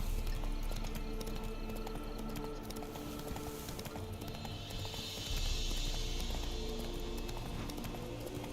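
Hooves of a galloping horse named Roach in The Witcher 3 game, a steady continuous clip-clop rhythm under a dense, loud game soundscape with no pauses.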